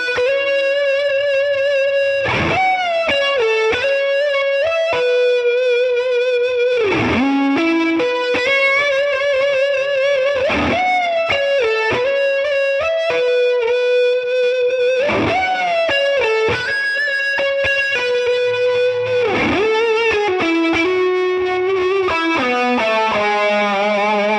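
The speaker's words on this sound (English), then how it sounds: "I've got a distortion pedal on the floor and a chorus going into lead gain" Electric guitar through a distortion pedal and chorus into lead gain, playing a sustained, melodic lead line with bends, loud and continuous throughout.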